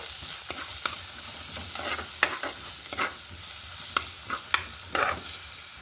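Steady sizzling of crushed onion frying in hot oil, with sharp scraping clicks of a spoon stirring the pan every second or so.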